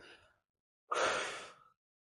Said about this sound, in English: blow out your core, exhale everything out